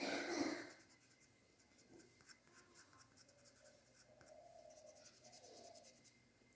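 Crayon drawing green scenery on paper, a soft, close, continuous waxy scratching of back-and-forth strokes, faint and steady with brief pauses and no talking.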